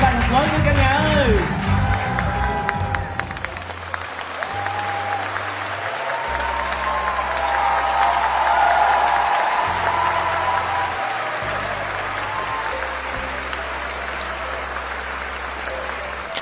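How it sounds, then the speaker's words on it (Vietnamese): Loud, sustained applause from a large crowd at a world-record event in India, dense clapping with occasional cheers running throughout, with steady low tones playing underneath. "Chúng ta hãy dành một tràng vỗ tay thật lớn với cả nhà ơi"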